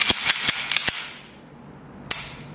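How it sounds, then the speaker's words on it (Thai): Slide and action of a Taurus 1911 Commander 9mm pistol being cleared with its magazine removed: a burst of sharp, close metallic clicks and clacks in the first second, then a pause and one more crisp click, with no talking. "ขออนุญาตเคลียร์ปืนให้ดูนะครับปลดแมกกาซีนนะครับเคลียร์ปืนนะครับ"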